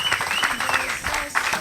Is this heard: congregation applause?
yes